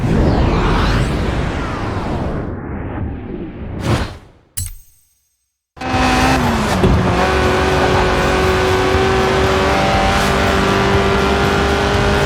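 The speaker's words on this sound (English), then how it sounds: "The honourable art of drifting." A car drifts in the Forza Horizon 4 video game, its loud engine revving and roaring with tire squeal. A brief drop to near silence comes midway, then the engine surges back and holds a steady howl.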